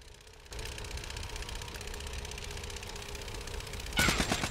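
Video game gunfire, a steady mechanical rattle of automatic fire that runs throughout at moderate loudness, with a louder burst of shots near the end.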